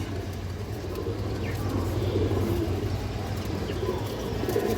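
Pigeons, a large healthy pair with black legs and tails, coo low and steady in a loft, a continuous soft murmur with faint chirps and distant car noise behind.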